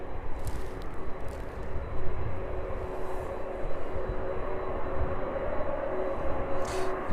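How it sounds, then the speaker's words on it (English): A 23-year-old Ryanair airliner taxis toward runway 27 at East Midlands Airport, heard as a steady low jet rumble and whine at a moderate distance, with no speech. "The Ryanair making its way up to Manchester then and lining up on runway 27"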